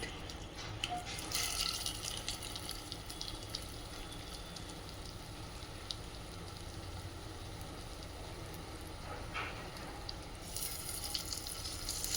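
Fish frying Andhra style in hot oil gives a steady, even sizzle and crackle throughout, with no voices.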